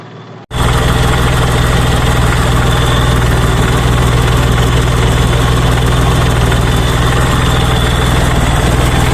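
A 1987 Daihatsu Charade G100 engine starts up and settles into a smooth, steady idle, a constant close rumble with no talk over it.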